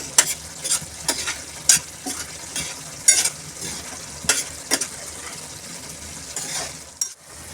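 A spoon repeatedly scrapes and stirs matar ragda, a spiced dried-pea curry, through a sizzling pan; the strokes come in a loose rhythm of distinct, close swishes over a constant low hiss, with no talking.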